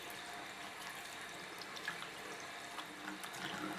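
Water runs steadily from a tap as a makeup brush is rinsed under it, a soft continuous splashing hiss with small spatters, no voices.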